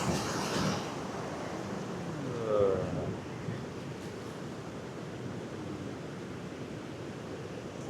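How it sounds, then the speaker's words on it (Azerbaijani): Big ocean waves crash against a rocky, stony shore on Madeira, a loud continuous roar of surf with a swell near the start, while a voice speaks briefly at first. "Oy, nə boyda dalğadır hə o."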